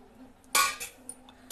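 Ingredients for a brinjal chutney, including onions, are pounded in a mortar, giving a couple of sharp clattering strikes with metallic clinks and a few lighter taps between them, close and otherwise quiet.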